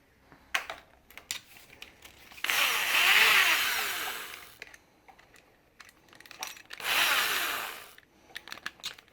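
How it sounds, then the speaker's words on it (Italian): A power drill fitted with a milling cutter bit bores holes for rear parking sensors in a car body, sounding as two loud whining bursts of a few seconds each, with scattered clicks and handling noise in between. "Cambiamo, mettiamo la fresa."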